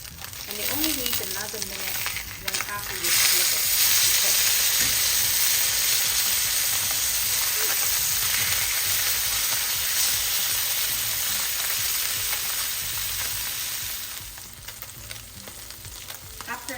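A salmon fillet sears in a hot pan, a steady, loud, close sizzle that builds in after a few seconds of clatter and holds for a long stretch before easing slightly near the end.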